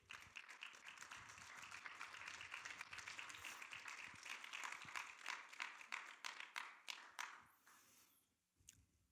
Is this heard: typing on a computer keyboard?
no